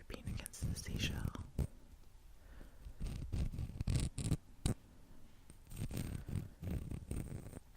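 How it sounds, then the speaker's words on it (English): Soft, close scraping and scratching against a seashell, with intermittent crisp bursts and quiet rustling between, intimate and low in level as in ASMR. "Scraping against the seashell."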